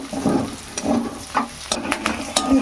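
Lentils frying with ginger and garlic while greens are cooked, giving a low crackling sizzle broken by scattered sharp ticks and stirring scrapes, close and fairly quiet with no talk.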